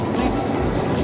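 Commuter train ride between Shin-Imamiya and Imaike stations in Nishinari, Osaka, heard from inside the car as a steady, continuous rumble of wheels and motor noise with broadband hiss throughout.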